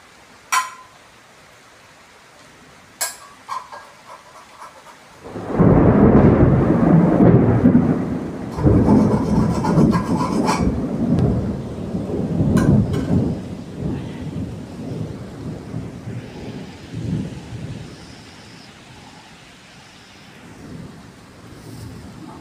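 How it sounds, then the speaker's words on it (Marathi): A thunderstorm with lightning breaks overhead: sharp crackles first, then a loud rolling thunderclap that rumbles on for many seconds over the steady hiss of rain. "इतक्या सेकंदाला ट्यूबलाईट सारख्या विजा चमकत"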